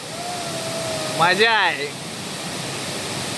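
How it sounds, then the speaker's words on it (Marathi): The Chandranagar waterfall gives off a steady, broad rushing roar that fills the whole moment, while a person speaks briefly over the noise in the middle. "हा बघा हा धबधबा"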